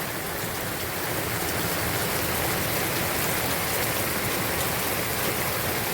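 Steady, heavy rain pours down in a dense, continuous hiss with no pauses and no voices.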